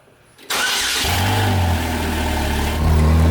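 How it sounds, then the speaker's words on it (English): A car's engine cold-starts close by, heard from behind the vehicle: a sudden crank and catch, then a loud, steady high idle with a slight rev toward the end. "Can you go behind the car and film this startup? This is called cold start, Mayor."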